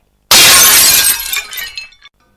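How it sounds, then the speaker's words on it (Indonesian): A small plate and a glass of hot tea hit the floor and shatter in one loud, sharp crash, followed by a brief scatter of tinkling shards that fades within two seconds. "piring kecil dan gelas berisi teh panas terlepas dari pegangannya, jatuh dan menimbulkan suara yang nyaring"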